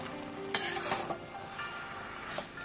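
Prawns being stir-fried in a pan with a little sugar, cooked light with almost no oil: a soft steady sizzle, with a few sharp scrapes and clinks from the stirring.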